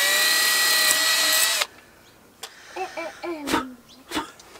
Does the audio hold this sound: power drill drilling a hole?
yes